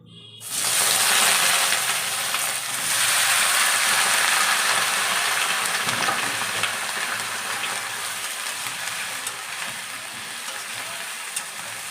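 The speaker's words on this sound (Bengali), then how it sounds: "সবজিগুলোকে নাড়াচাড়া দিয়ে একটু হালকা ভেজে নিচ্ছি।" Chopped mixed vegetables with spinach hit hot mustard oil in a pan, bursting into a loud, steady sizzle with scraping stirring noises running through it, close and continuous.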